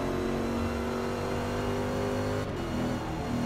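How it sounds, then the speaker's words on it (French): A Corvette C7 GT3 race car in the Forza Motorsport 6 video game drones at high revs around the Le Mans circuit, a steady loud engine roar with a brief dip near the end. "nous on va faire quelques tours du circuit du Mans. Avec la Corvette C7."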